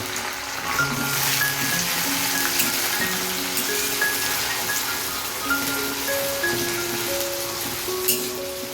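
Golden fried onions sizzling hard in a pan as water is added, a dense, steady crackling hiss with bubbling, loud and continuous throughout, no voices.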